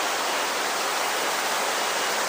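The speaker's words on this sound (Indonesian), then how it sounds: "10 menit kita nyampe di air terjun" Steady, dense rushing of Curug Genting waterfall in Banjarnegara, Indonesia, a broad unbroken roar of falling water that stays constant throughout.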